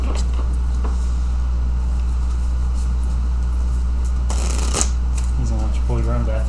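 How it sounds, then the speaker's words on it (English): A deck of playing cards is shuffled at close range inside a moving road vehicle, a quick riffling burst under a steady engine drone, with people talking nearby. "Grab a deck,"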